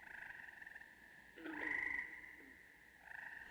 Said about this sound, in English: This leopard frog is also an amphibian